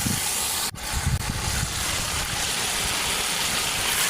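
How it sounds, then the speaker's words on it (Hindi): Potatoes sizzle as they fry in spice masala for aloo matar pulao, a steady loud hiss of hot oil that runs the whole stretch after a brief dip near the start. "आलूओं को इसके अंदर मसाले के अंदर डाल के अच्छी तरह भून लेंगे।"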